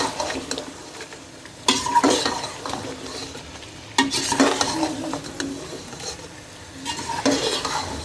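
Spiced fried cauliflower being mixed into chicken in a pot, bursts of scraping and clanking spoon strokes with a soft sizzle in between, close and without talk.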